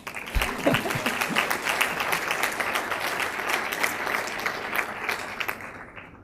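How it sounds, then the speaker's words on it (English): Sustained applause from a university convocation audience honouring FDU students, steady dense clapping throughout, fairly loud and close, with no talk over it. "You can clap for them too"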